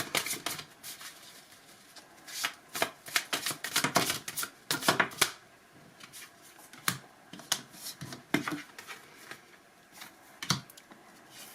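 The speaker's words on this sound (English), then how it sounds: "I'm just gonna shuffle and we'll see how many fall out." Cards being shuffled by hand in irregular bursts of crisp riffling and flicking, close and fairly loud, with brief quiet gaps between.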